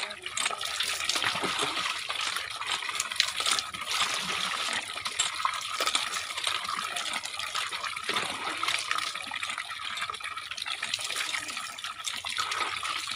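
Water runs steadily from a tap into a filling tub, a constant hissing splash, with faint voices in the background.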